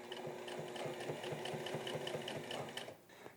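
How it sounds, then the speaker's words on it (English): A sewing machine top stitching a raincoat lining runs steadily up close with a rapid, even mechanical rattle, then stops just before the end. "To finish it all off, a top stitch around the outside."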